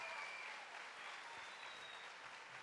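Young people at a gathering at the Lluc sanctuary give a loud round of applause. Many hands clap in a dense, even rush that holds at a similar level for its whole length, heard from some distance.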